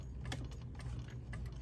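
A commercial sewing machine stitches slowly forward and then back stitches, producing a short run of rapid, close mechanical ticking at an even pace.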